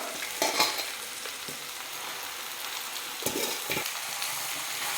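Chopped palak spinach stirred into frying onions in a pan: a steady close sizzle with a couple of louder stirring scrapes, no voices.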